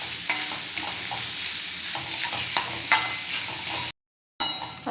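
Spiced grated potato filling is stirred in a hot pan, giving an even sizzle broken by repeated scraping strokes, with a brief dropout near the end.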